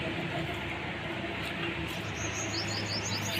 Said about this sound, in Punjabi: ਤੇ ਚਿੜੀ ਵੀ ਚਹਿਕ ਰਹੀ ਹੈ